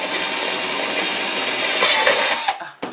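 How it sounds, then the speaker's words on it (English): Drill bit boring a larger hole into a glass wine bottle, a steady high whirring grind close by that runs for a couple of seconds before stopping abruptly, followed by a few brief clicks. "All right, and try not to drill all the way through."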